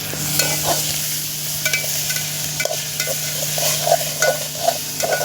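A ladle stirs peanut bhajiya curry in a pot on a wood stove, giving scraping, clinking strokes over a continuous sizzle, close and fairly loud, with no voices.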